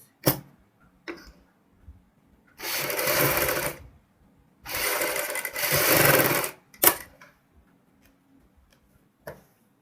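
A sewing machine runs in two sustained bursts of a couple of seconds each, stitching piping onto a lotus-style kurti neck, with scattered ticks and clicks from handling the fabric between runs and no talking.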